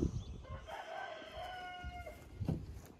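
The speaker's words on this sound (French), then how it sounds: "Bonjour le coq." A rooster crows once on a farm at morning, a drawn-out rising and falling call heard fairly close over a few seconds, with faint background rustling and thuds.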